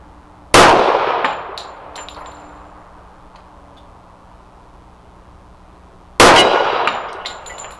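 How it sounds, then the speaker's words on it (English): Two loud gunshots from a Savage 1911 .45ACP pistol firing Remington 230 grain ball ammunition at an outdoor range, each sharp crack ringing out and decaying, spaced several seconds apart. "I'm going to put some Remington 230 grain ball through it out of a Wilson Combat magazine, and we'll just see where it shoots here at 15 yards"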